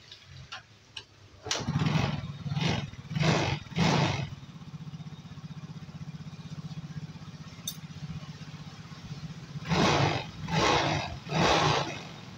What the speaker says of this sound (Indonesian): lalu kita tes hidupkan motornya